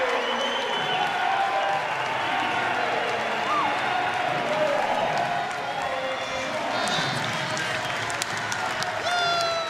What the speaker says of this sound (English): The crowd on their feet celebrating Leon Marchand